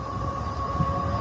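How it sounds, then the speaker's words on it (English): A train rumbles past close by with a steady heavy roar and a sustained tonal whine, loud and continuous throughout. "There comes the train. There's the train, everybody."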